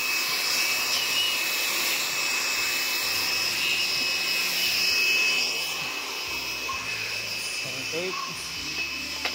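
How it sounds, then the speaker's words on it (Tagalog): Compressed-air blower drying freshly cleaned EGR system and turbo parts from a Mitsubishi Strada 4N15 diesel, a steady loud broadband hiss running throughout with slight dips near the end. "Tinutuyo na lang ng blower yan."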